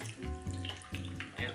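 Vodka poured into a glass of ice, a short gurgling splash of liquid in uneven bursts, close and fairly quiet.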